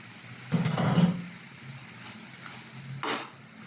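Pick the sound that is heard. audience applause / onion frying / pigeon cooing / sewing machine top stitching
onion frying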